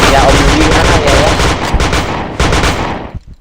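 Loud, dense automatic gunfire fills a shooter video game, with rapid overlapping shots that thin out and stop near the end and a voice partly buried under the shooting.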